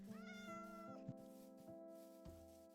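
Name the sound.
cat meowing in the video game Minecraft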